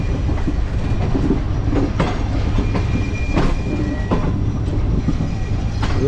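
The Karakoram Express, running at night from Karachi to Lahore, rolls with a steady rumble and rhythmic clickety-clack of wheels over rail joints, heard close and continuous with faint squeals.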